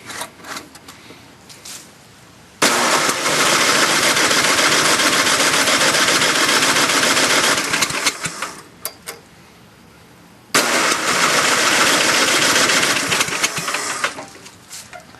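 A John Deere 1026 tractor engine cranks hard in a cold start attempt, with two long loud bursts of steady churning noise, each several seconds, separated by a quieter pause and trailing off without catching.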